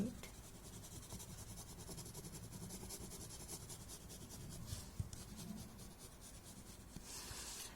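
Graphite pencil laying down thick, dark strokes on paper, a steady soft scratching and rubbing that runs continuously at close range with no talking over it.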